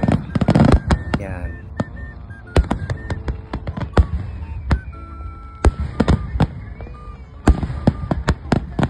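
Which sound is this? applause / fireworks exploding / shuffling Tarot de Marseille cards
fireworks exploding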